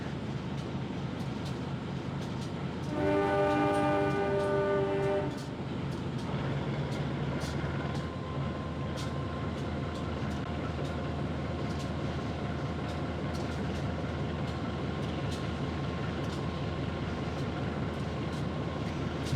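A simulated Matarmaja passenger train in Trainz Simulator rumbles steadily through a station, a low continuous drone with a loud multi-tone horn blast lasting about two seconds early on.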